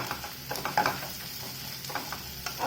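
Turmeric is roasted and stirred in a dry pan, a light close sizzle with quick scraping strokes of a spoon repeating across the brief moment.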